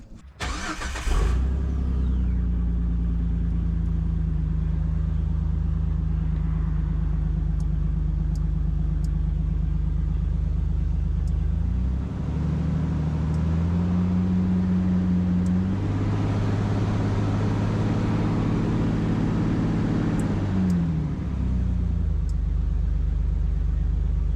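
A Jeep TJ engine starts and settles into a steady close idle, then is raised twice by a Teraflex hand throttle to a higher held drone before dropping back, with no talking.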